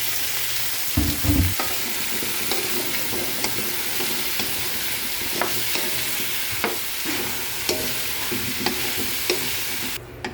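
Squash sautéing with garlic and onion in a hot pan, a continuous sizzle with stirring scrapes and occasional clinks of a utensil, close and steady.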